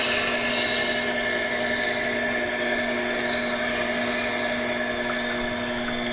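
A blade drawn across the wheel of a Tormek sharpening grinder for a final stroke: a loud, close, steady motor drone with a gritty hiss that cuts off abruptly near the end.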